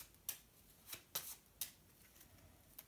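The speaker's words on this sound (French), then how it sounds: "je vais prendre un paquet avec quelques cartes au hasard que le spectateur peut bien sûr mélanger autant qu'il le veut" A small deck of playing cards shuffled by hand, heard as a few short, quiet riffling bursts spaced unevenly, close and soft, with no talking.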